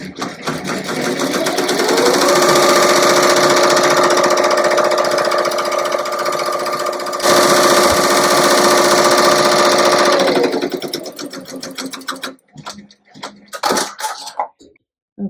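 An embroidery machine stitching a bow design onto a sweatshirt hums and clatters in a fast, steady rhythm for about ten seconds, close and loud, then slows and stops with a few scattered clicks.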